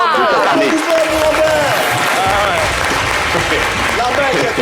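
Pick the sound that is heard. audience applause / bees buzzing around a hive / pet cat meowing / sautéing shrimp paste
audience applause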